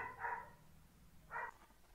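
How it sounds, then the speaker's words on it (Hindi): A dog barks twice in the distance, two short faint yaps about a second apart over a quiet room background. "कुत्ता शांत हो गया है"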